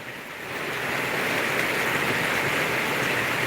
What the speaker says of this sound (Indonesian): Hujan, kondisi hujan masih lebat di Sapokanten Palembang.